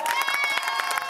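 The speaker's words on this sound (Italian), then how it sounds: "Applauso!" An audience at an outdoor music event in Novi Ligure cheers and claps continuously, with shouting voices and high whistle-like tones riding over a dense, steady crowd roar.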